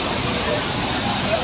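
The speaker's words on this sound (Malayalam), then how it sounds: "വെള്ളച്ചാട്ടത്തിൻ്റെ എന്താ പറയേണ്ടത്, അടിപൊളി" Waterfall roaring steadily in the rain at a bathing spot crowded with people: a continuous, close, broadband rush, with faint voices mixed in.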